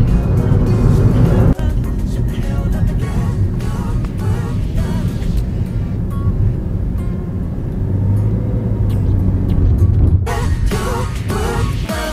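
A car drives toward the Golden Triangle border area where Thailand meets Laos, its engine and road rumble loud and steady from start to finish with no one speaking.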